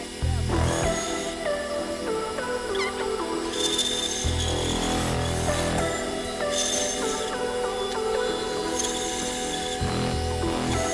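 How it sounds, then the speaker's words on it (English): A bandsaw cuts shapes out of scrap wood for geometric earrings, a steady loud machine drone running throughout with shifting cutting tones and a few brief scraping bursts as the blade works through the wood. "Next step is we're gonna go back to the bandsaw and cut these shapes out."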